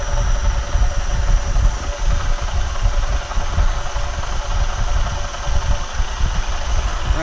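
Metal lathe spinning at about 600 RPM during a rotary welding table build, a loud continuous motor drone with a rough, pulsing low rumble, close and steady.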